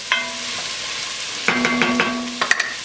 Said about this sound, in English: We're just going to stir that up. I'm going to scrape up some of the goodness in there too that we got on the bottom of the pan.